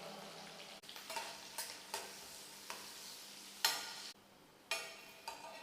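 Sliced onion and curry leaves fry in a tempering pan, a soft steady sizzle punctuated by repeated sharp scrapes and taps of a stirring spoon, close and fairly quiet.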